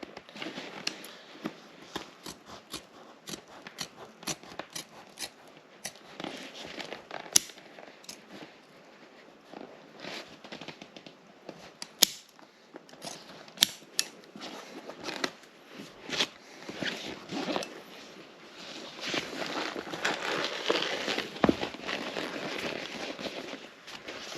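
Scissors trimming fabric seam allowances around a corner of a boat seat cover, a close series of quick crisp snips and rustling cloth in an irregular rhythm, fairly quiet, with no talking.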